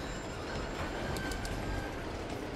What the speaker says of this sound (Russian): у нас продолжается эпизод с поездом